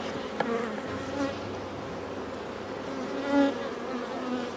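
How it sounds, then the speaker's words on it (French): A steady, dense buzz of many honey bees on a hive frame holding brood, pollen and honey, close by, continuous and droning with slight swells in loudness. "Je vois pas mal d'abeilles."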